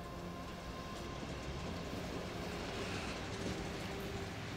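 A steady, faint rumble and hiss inside a moving train carriage in Germany, near Memmingen, continuous and even, with no voices.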